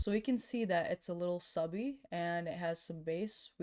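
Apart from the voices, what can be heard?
No everyday noise stands out behind the speech.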